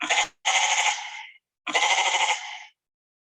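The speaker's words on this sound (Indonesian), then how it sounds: "Jadi visualisasinya itu ada suara kambing seperti ini." Goat bleating plays from a radio exhibit at the Monumen Pers Nasional: a brief clipped note, then two loud, sustained bleats separated by a short silence, with no talking.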